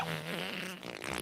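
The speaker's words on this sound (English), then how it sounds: "I'm about to fart right now." Loud, sustained fart noise from the animated Animal Farm film, a buzzy, rippling tone lasting just over a second.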